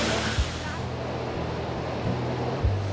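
A cave waterfall in Postojna, Slovenia, roars as a steady broadband wash of falling water, continuous and fairly loud, with low rumbling bumps underneath and no voices.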